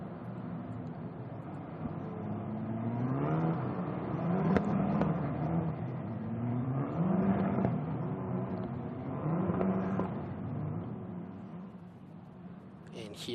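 Formula 4 race cars roll to the starting grid at Sepang International Circuit, engines rising and falling in several repeated rev surges at moderate distance, with commentary over them.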